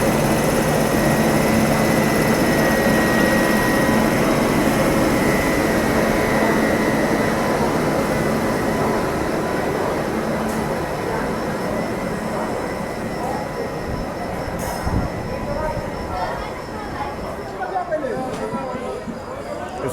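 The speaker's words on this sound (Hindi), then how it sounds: "महाराष्ट्र संपर्क क्रांति वलसाड WAP 7 के साथ यहाँ निकल रही है दिल्ली की तरफ" A Maharashtra Sampark Kranti train hauled by a WAP 7 electric locomotive pulls out of a platform, a steady loud rolling rumble filling the whole stretch with faint background voices.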